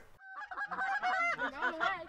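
Geese honk loudly and repeatedly during a youth waterfowl hunt, a close chorus of overlapping nasal calls that rises and falls without pause and has no talk over it.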